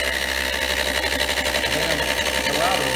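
A 4x8 CNC router with a new router motor cuts a board and throws chunks instead of sawdust, giving a loud, steady, dense machining whine throughout while people talk over it.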